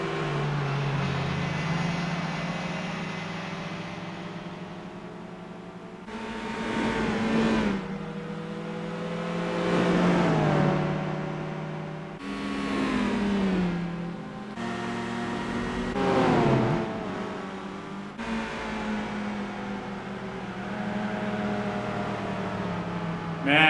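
Race cars in Gran Turismo 4 on the Monaco street circuit drone continuously, engines revving up and shifting through gears with several louder passes sweeping by near and far, no voices.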